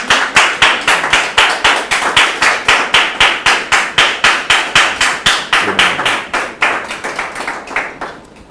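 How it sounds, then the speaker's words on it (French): Studio audience at a talk show claps in a sharp, rhythmic unison beat, loud regular claps about three per second that slow and fade toward the end, with no talking over them. "On la reçoit sous vos applaudissements."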